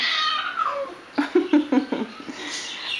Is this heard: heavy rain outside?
no